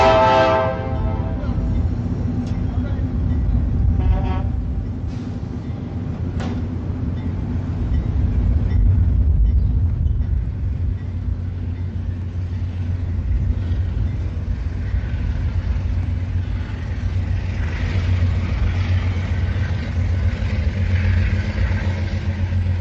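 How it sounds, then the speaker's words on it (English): Santa Fe locomotive 818 powering through the small Fullerton rail yard, heading west toward Los Angeles; a loud, steady diesel engine roar with a horn blast near the start and rumbling wheels throughout. "Powering through the small yard at Fullerton, Santa Fe's 818 moves west to Hobart Yard, Santa Fe's Los Angeles terminal"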